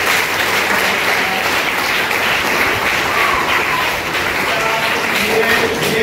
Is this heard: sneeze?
no